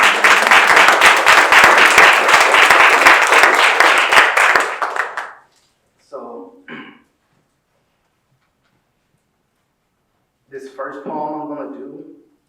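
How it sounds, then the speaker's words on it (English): Loud applause from an audience at a Louisiana poetry reading, dense clapping for about five seconds that then stops, followed by brief talk and later a speaking voice near the microphone. "please give them another round of applause"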